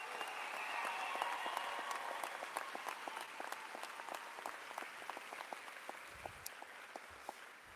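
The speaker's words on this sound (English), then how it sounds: "how about one more round of applause for our class of 2018?" Sustained applause fills a high school commencement hall for the graduating class of 2018, a dense, even patter of many hands clapping that gradually thins and fades toward the end.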